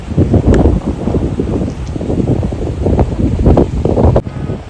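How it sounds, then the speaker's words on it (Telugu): Steady cold wind gusting and rumbling against the microphone on a cloudy hillside in Harsil, Uttarakhand, loud and continuous with swelling buffets throughout. "చల్లటి గాలి వస్తుంది"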